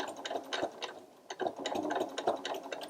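A sewing machine reverse stitching a fabric book cover, its needle chattering in a quick, steady rhythm with brief pauses and restarts, fairly close and moderately quiet with no talking.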